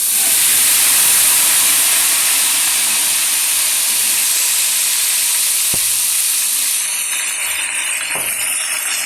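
Pav bhaji gravy of chili and garlic hisses and steams loudly in a hot pan, a steady broad sizzle that carries on throughout, easing slightly near the end, with no one talking.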